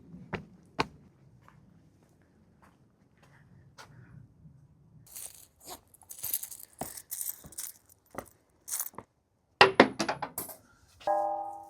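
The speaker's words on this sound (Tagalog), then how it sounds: "Maghuhulog ka ng barya, magdasal." Coins dropped into a wooden shrine offering box at a Japanese shrine, a cluster of sharp metallic clinks and rattles landing close by, preceded by quieter footsteps and faint handling sounds.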